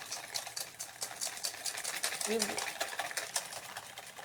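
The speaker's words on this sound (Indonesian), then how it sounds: "Dikocok sampai gulanya bercampur dengan telur ya" Eggs and sugar whisked by hand in a bowl for madeleine batter, a steady run of quick scraping ticks against the bowl, fairly close and continuous, with a brief murmur of voices partway through.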